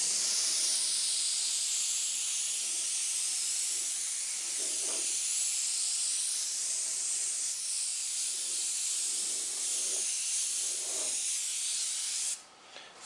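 An airbrush sprays straight white paint in light passes, a close, continuous airy hiss with a few soft swells, stopping abruptly near the end.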